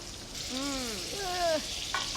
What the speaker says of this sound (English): Yes, the sizzle.